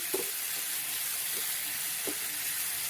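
Masala fries in oil over a slow flame for an egg paneer roast, giving a steady, close, hissing sizzle with a few soft taps of stirring.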